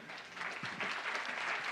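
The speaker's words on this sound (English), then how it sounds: "Can I ask for a round of applause to my panelists?" Audience applause for the panelists at the close of an investment summit panel session, a steady broad clatter of many hands clapping throughout, fairly even and moderately distant, with no speech over it.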